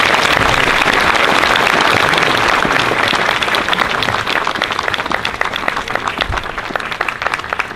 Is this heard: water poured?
no